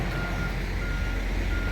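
A truck pulls into a truck stop with a steady reversing beep sounding over continuous engine rumble and broadband noise from nearby.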